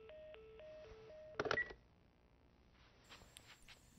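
Telephone keypad dialing tones from The Last of Us video game: a sequence of short stepped beeps, then a quick burst of rapid tones, followed by faint electronic clicks and a thin high tone before silence.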